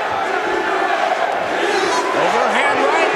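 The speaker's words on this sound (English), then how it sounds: "The chant of Houston from this Omaha crowd." An Omaha arena crowd at an MMA fight roars and chants for Houston Alexander, a loud sustained mass of voices, with a commentator talking over it.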